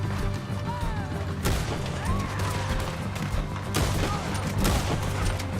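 Rifle shots and heavy gunfire crack out in a Red Dead Redemption 2 shootout, sharp loud bursts at irregular intervals over a dense, rumbling battle din with no voices.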